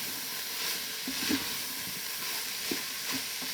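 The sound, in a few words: sauce frying in a pot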